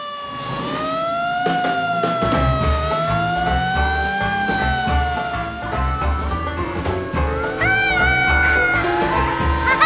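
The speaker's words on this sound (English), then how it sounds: "You want to get the siren, George?" A cartoon fire engine siren wails loud and close at a fire muster event, its rising and falling tone layered over music and engine rumble for the full stretch.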